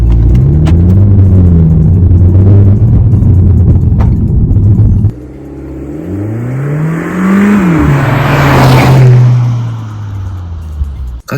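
An Audi A3 sedan with an aftermarket muffler and a Chinese R-EP air cleaner drives and accelerates, its engine rumbling and rising in pitch through two strong revving pulls, loud and close, with no one talking.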